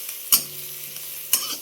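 Coriander, cumin and mustard seeds crackle in hot tempering oil, a low continuous sizzle with two distinct spoon knocks on the pan rim.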